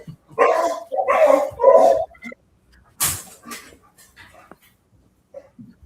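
A dog barks close by, three loud barks in quick succession, then a pause, a sharper bark, and a few fainter yips and whimpers trailing off.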